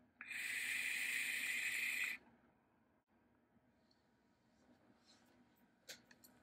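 Air drawn through a Hellfire Exocet V2 billet vape box mod gives a loud, airy hiss lasting about two seconds, then falls to quiet room tone with a few faint clicks.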